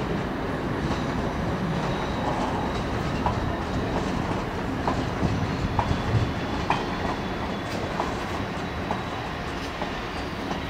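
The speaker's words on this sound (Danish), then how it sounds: "Der kører S Tog. Linje E til Køge." An S-train on line E toward Køge rolls past close by in a steady loud rumble, with rhythmic clickety-clack of wheels over rail joints throughout.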